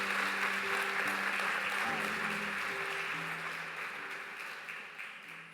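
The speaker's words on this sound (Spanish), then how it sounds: "denle un fuerte aplauso a nuestro Señor" A church congregation applauds during a service, giving a loud, even burst of clapping that slowly fades, with a sustained organ or keyboard chord sounding underneath.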